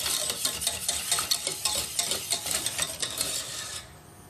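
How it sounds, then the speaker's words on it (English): Simmering milk whisked into mashed potato until smooth, with rapid, rhythmic whisk strokes against the pot that are close and fairly loud, then stop abruptly near the end; no voices. "I now whisk in some simmering milk until it's smooth and silky"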